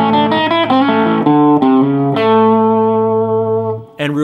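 Distorted electric guitar plays a blues rock lick on the major blues scale, a handful of quick bent notes settling into a long sustained low note, loud and close with effects and reverb.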